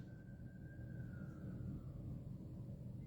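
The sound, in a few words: ambulance and fire alarm sirens in New York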